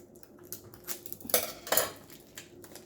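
A knife and scissors are handled during an unboxing of beginner craft supplies, giving several light metallic clinks and taps close by in a quiet room, with no talk.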